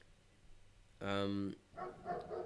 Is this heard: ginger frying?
no